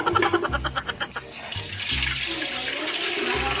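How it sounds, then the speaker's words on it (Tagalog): Water pouring and splashing close by, starting with bubbly gurgling bursts, then settling into a steady running stream. "maglagay tayo ng tubig"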